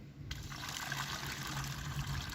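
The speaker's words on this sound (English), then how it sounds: "if I release it, it's going to symbolize a spring melt of the snow, and as the water goes through the watershed" Water poured from a funnel runs through a small tabletop watershed model, making a steady close trickling and gushing flow that continues without pause.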